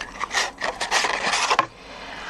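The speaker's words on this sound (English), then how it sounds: "I'm just pushing the card into the jaws of the punch as far as it will go," Card stock slides and rubs into the jaws of a 3/4-inch circle punch in a few quick scraping strokes, close and fairly loud, ending with a short click.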